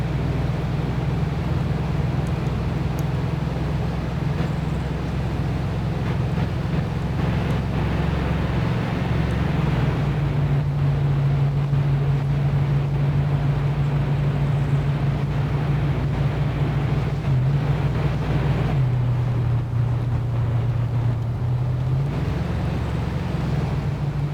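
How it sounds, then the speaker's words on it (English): Vehicle engine in the video game ArmA 3, a continuous low droning hum that shifts pitch slightly as it drives along a road, steady and fairly loud with wind-like rush, no talking. "this is an engine noise I can live with, even if it means I don't have a gun on the back"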